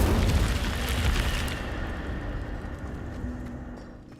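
A fire spell blast in Hogwarts Legacy, a loud whooshing burst up front that rumbles and fades away over a few seconds.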